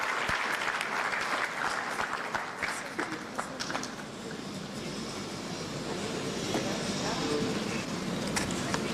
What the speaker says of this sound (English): Another round of applause to the Minister.